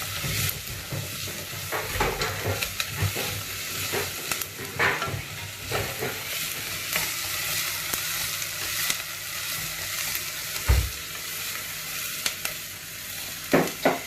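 Onions fry and sizzle in a pan while being stirred for a cottage pie, with a steady crackling hiss and frequent scraping clatters of the spoon against the pan throughout.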